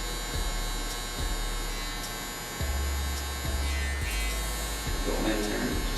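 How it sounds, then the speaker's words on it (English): Electric hair clippers buzz steadily and close up through a haircut, the motor hum shifting slightly as the blade works against skin and hair, with a brief lull near the middle. "Stretching the skin using the corner of the clipper."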